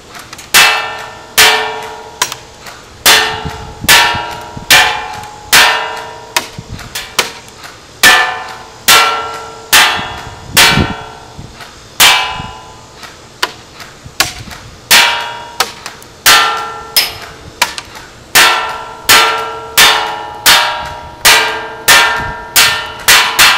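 Lancer Tactical M4 airsoft rifle firing semi-auto at a target, sharp loud cracks in a steady series of about two dozen evenly spaced shots, each with a brief ringing decay.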